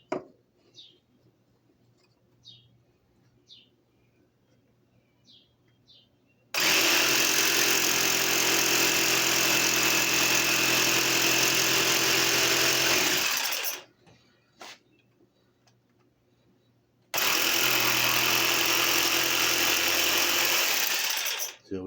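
A power saw cuts a small notch in a wooden piece for a porch swing planter, two loud sustained bursts of about six and four seconds separated by a short pause, with light knocks and handling beforehand.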